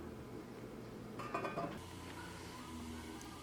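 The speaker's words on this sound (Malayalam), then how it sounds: "ഇത് മൂടി വയ്ക്കുക." A metal lid is set onto a cooking pot of chicken mandi, giving a short, soft clatter and clink that stands out briefly over quiet kitchen background.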